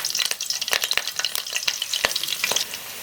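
Green chillies sizzle and crackle in plenty of hot oil for a street-style chicken liver and gizzard fry, with dense steady frying and sharp pops and spatters throughout, close and fairly loud, no voices.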